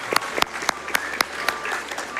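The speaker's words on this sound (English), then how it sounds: "Can we give a round of applause?" Sparse clapping during a Games Done Quick charity speedrun marathon, greeting a donation: a handful of sharp, separate claps spaced about a quarter second apart, fairly close, over a low steady room hum.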